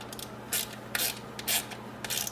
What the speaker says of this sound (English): Or we can just tighten it down without the grill